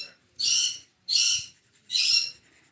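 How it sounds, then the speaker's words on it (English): Pet conures give three loud, shrill squawking calls in a row, each lasting about half a second with short gaps between, close to the microphone in a quiet indoor room. "That was very good timing for my sweet little conures to join in."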